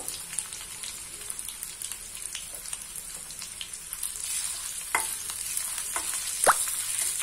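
Chopped ginger sizzles in hot oil in a pan, a steady soft hiss dotted with sharper crackles and pops that grow a little busier toward the end, with no voices.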